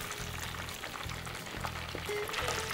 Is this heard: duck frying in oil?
yes